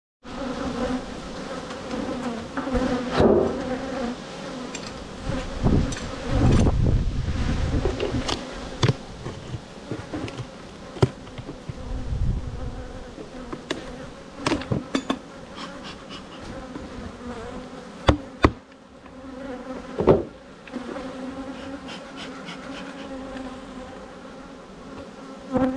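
Honeybees buzzing steadily and close at an opened hive during a honey harvest, a dense continuous drone with passing individual bees, some brief knocks and handling noises, and no talking.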